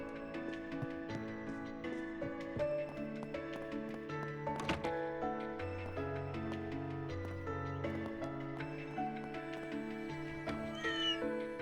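A cat meowing in the video game Trails Through Daybreak II, set against layered game music with tapping and clopping effects, no talking.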